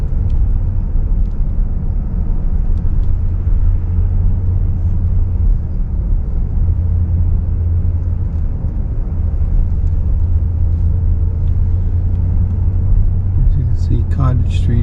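A car drives through the quiet streets of Bar Harbor, Maine, in December, with a steady low engine and road rumble throughout and a brief rattle near the end.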